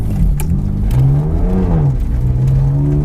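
A tuned BMW M4 accelerating hard in a roll race, its engine droning loudly and steadily with pitch climbing and dipping through a gear change, heard close from inside the car.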